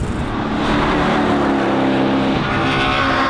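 A 1950s Chevrolet Corvette race car engine from the Sebring 12 Hours era roars loud and steady, a dense, continuous mechanical drone with no pauses for the whole stretch.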